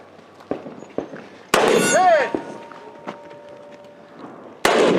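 Bullets striking a steel target during a desert shooting competition stage, several sharp metallic clangs with ringing tails, spaced irregularly and fairly loud against quiet outdoor background.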